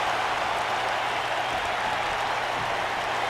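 Large crowd at a wrestling event in Philadelphia roaring and cheering, a dense, steady wash of noise filling the arena, loud and continuous with no breaks.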